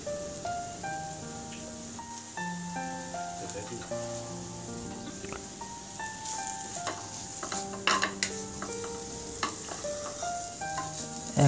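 Tomato and garlic stir-fry in a pan for shrimp vegetable fried rice, giving a soft, constant sizzle with occasional spatula scrapes beneath background music.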